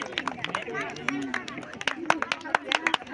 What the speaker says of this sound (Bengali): তো আমাদের উইনারের জন্য জোরে একটা হাততালি সবাই